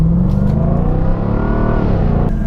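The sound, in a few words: 2020 Jaguar F-Type R engine pulling away from car park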